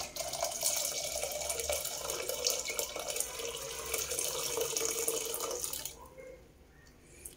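Boiled milk with sugar pours through a strainer as a steady, close splashing stream that runs for about six seconds and then stops, leaving near silence.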